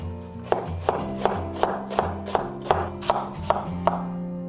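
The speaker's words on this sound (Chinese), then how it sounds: "再准备小个包菜切丝" Knife shredding a small head of cabbage on a cutting board, steady rhythmic chops about two per second, crisp and close, with a low hum underneath and no talk.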